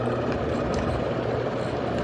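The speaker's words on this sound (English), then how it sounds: "This thing literally sounds like a helicopter." Hampton Bay Carriage House 52-inch ceiling fan running on high, a constant loud whooshing, chopping hum with a low rhythmic throb, close and unbroken, with no talking.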